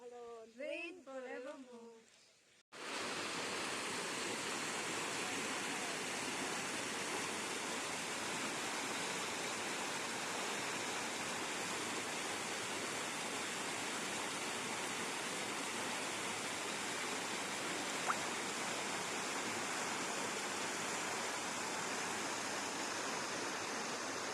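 Steady broadband rush of flowing river water fills the whole stretch, loud and unbroken like a stream or small waterfall, after a few seconds of a voice speaking alone at the start.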